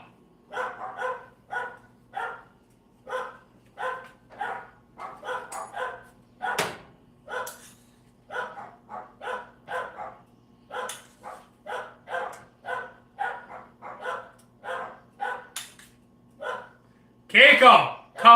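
Dogs bark in quick repeated bursts throughout, close and fairly loud, with a person shouting near the end; the setting is a home kitchen during a live cooking stream.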